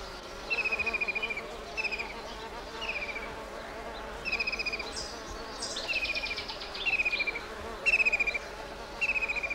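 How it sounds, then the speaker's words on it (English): Honeybees buzz around wild orchids in Israel. The buzzing comes in short, repeated pulses with small chirping tones, heard close and fairly loud over an outdoor background. "It draws a steady stream of insects. The most common visitors are honeybees."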